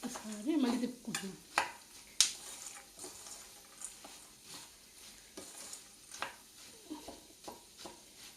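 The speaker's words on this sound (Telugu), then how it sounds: "ఒక్కసారి మళ్ళీ తిప్పుకుంటున్నాం." Cashews, pistachios and sunflower seeds are stirred in a pan, giving a series of sharp scraping clicks and rattles at an uneven pace over a faint background sizzle.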